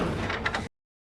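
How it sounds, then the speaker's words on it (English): A secret door in a TV drama episode slides open with a broad, grinding whoosh, loud and close for well under a second before it cuts off abruptly into silence. "Secret door?"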